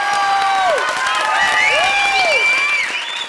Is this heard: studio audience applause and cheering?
yes